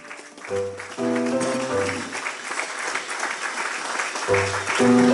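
A church congregation at a Sunday service in Nantes breaks into applause and cheering for the Lord, a loud, sustained wash of clapping and voices over organ-like music chords.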